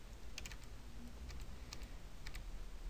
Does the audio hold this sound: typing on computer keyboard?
yes